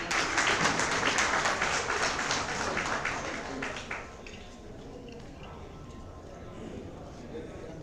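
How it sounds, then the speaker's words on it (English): Seminar audience claps for a speaker, a moderate patter of hands that fades out after a few seconds into quiet room tone. "Give a round of applause for Dolly Sinha"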